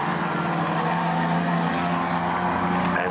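Stock rod race cars lap Swaffham Raceway in a Bangers Against Cancer heat, a steady, moderately distant engine drone with a continuous, unbroken roar and no voices.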